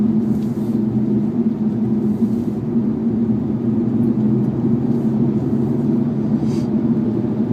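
Steady interior road rumble and engine drone of a car cruising at about 50 mph on a wooded suburban road, continuous and even throughout, with no talking.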